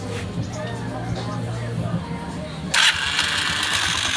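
A homemade motorcycle engine converted to battery operation cranks and catches, starting with a loud sudden roar about two-thirds through and then running steadily, preceded by low rumbling and background noise.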